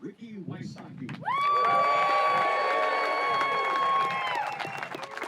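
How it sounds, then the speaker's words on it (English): Spectators at a disc golf tournament, the Kansas City Wide Open, break into sustained applause and cheering that swells suddenly and holds for several seconds, following brief commentary speech at the start. "We have got a wonderful crowd here."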